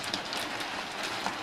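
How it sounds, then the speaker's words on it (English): Steady rain falls outside during a thunderstorm in the early morning hours, a soft, even wash of patter with no thunder rumble standing out. "It's raining"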